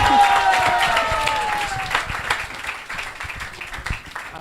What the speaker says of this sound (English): Another round of applause for everybody who was a part of this.